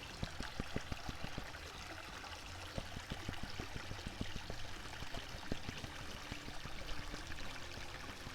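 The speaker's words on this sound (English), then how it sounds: "This is all the cons that came from that micro mat. So I don't even have to pan that. I just have to wash that back." Water pours and trickles steadily as gold concentrates are washed off a small micro mat used in gold prospecting, a continuous close splashing stream with no talk.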